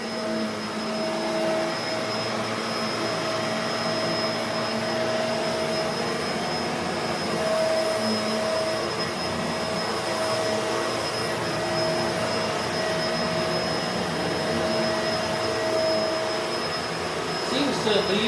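A Bissell MultiClean Allergen Lift Off Pet upright vacuum cleaner runs on household carpet with a constant loud whine and hum, a steady drone lasting throughout.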